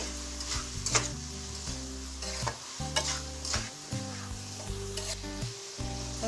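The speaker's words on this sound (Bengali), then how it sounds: "এখন আমি সব মশলাটাকে ভালো করে মিক্স করে নিচ্ছি এবং ভুনা করে নিচ্ছি" Spice paste with ground coriander frying and being stirred for a Bengali crab curry, a steady close sizzle broken by repeated scraping stir strokes throughout, with no voices.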